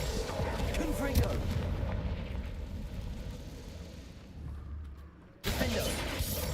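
Confringo fire spell explosions in Hogwarts Legacy rumble and boom loudly and almost continuously, a dense blasting roar that dips briefly before another burst strikes near the end.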